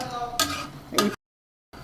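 A spoon stirs dry lentils frying in a pan for dal, making two short scraping bursts with a soft sizzle before the sound cuts to silence.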